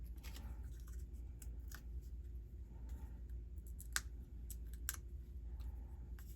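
Scissors snipping foam dimensional adhesive pads at a craft table, a run of quick, faint close clicks and snips over a low steady hum.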